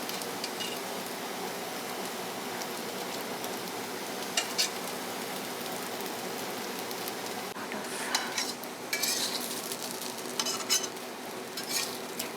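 Chef Heena Patel's ragda being stirred at Besharam restaurant in San Francisco, a steady low sizzle with scraping and clinking of utensils against a pan, brighter clatters surfacing now and then over a constant kitchen hum.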